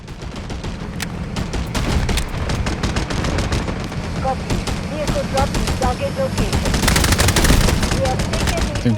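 Loud, close gunfire in the mobile shooter Delta Force Mobile: rapid automatic bursts and single sharp shots pile over a busy battlefield din, and the firing grows denser toward the end.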